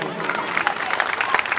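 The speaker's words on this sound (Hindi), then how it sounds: "जोरदार तालियां बजाते रहिए" Audience applause at a devotional jagran gathering, about a second and a half of dense, continuous clapping with crowd murmur mixed in.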